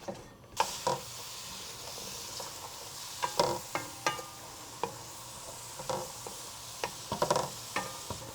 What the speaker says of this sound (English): So while we saute this onion